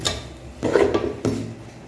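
Stone salt is stirred into a spinach and mixed vegetable stir-fry in a pan, giving three short, close scraping strokes of a utensil against the pan.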